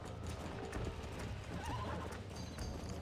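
Horse hooves clip-clop in a fast gallop under a dense, steady wash of background sound, with a horse's whinny mixed in, in the video game Red Dead Redemption on Nintendo Switch.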